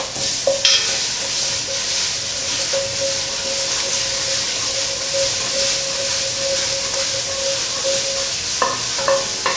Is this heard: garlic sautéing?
yes